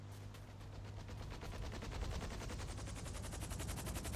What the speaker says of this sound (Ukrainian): Чую постріли.